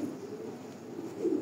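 A racing pigeon coos softly in low, murmuring throaty rolls that swell slightly near the end, heard faintly and alone.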